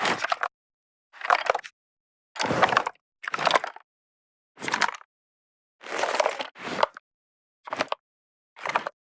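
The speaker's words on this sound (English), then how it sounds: "these machine gun shakes and pistol handling sounds make a really nice layer for the gun shifting around" Short bursts of rattling metal and rustling cloth come in separate clusters with silent gaps, foley of machine gun shakes and pistol handling, like a gun being shifted, close and clear.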